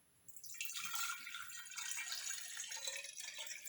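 Purified water poured into a container for making silver water, a soft splashing trickle that starts after a brief pause and runs steadily, fairly faint and close, with no talk.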